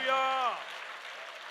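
A congregation claps at an all-night revival prayer meeting: steady, dense hand-clapping rises right after a sustained voice fades out, then continues evenly to the end.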